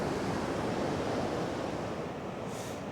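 Large ocean waves break at Encounter Bay near Victor Harbor and Petrel Cove, South Australia, making a steady, loud roar of surf mixed with wind that never lets up, with no voices.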